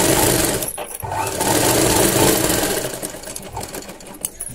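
A sewing machine runs steadily and loud while stitching a shoulder seam near a square neckline with thread piping, with one short pause about a second in and then continuous whirring.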